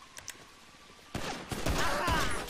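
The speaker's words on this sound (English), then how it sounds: "That heavy pistol do not play, man. It does severe damage to these NPCs, man." Heavy pistol gunfire in GTA 5 Online, a burst of several shots over the game's background noise, fairly loud and close.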